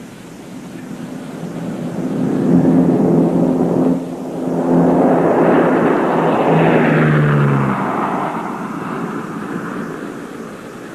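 A Lockheed L-188A Electra with Allison constant-speed prop jet engines passes in a loud, near flyby, a turbine roar mixed with a steady propeller drone that swells, dips briefly, then fades away.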